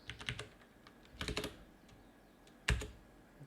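Computer keyboard keys tapped in three short bursts of quick clicks, the last a sharper, louder strike, close and alone with no talking.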